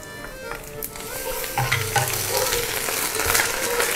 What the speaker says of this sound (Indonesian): Bawang ni you kena tumis hingga dia jadi coklat